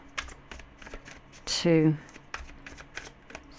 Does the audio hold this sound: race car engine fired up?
no